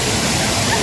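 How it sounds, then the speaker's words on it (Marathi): A forest stream on a foggy night trek at Bhairavgad, Ratnagiri, rushing in a loud, steady broadband wash of flowing water close by, with no gaps. "इथे आपल्याला आता एक ओढा लागला आहे"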